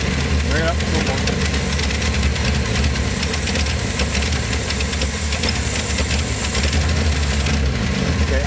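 A race car engine running at a racing shop, a steady, loud mechanical drone with rough low rumble and a high whine, holding fairly even throughout with faint voices underneath.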